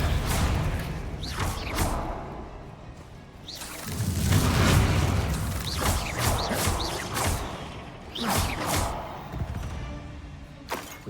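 Confringo blasting spells in Hogwarts Legacy fighting goblins in a mine, a series of heavy booming blasts and whooshes spread through the fight, with a deep rolling explosion near the middle.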